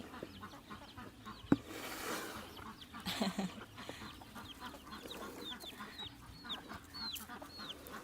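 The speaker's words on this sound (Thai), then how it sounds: "เขาก็จะไล่ไก่ไปด้วยนะคะเพราะว่าไก่ รอจิกแตงโมของเขานะคะ" Hens cluck faintly in the distance near a watermelon-eating spot, with a scattering of short chirpy calls over quiet outdoor background noise and a single sharp knock partway through.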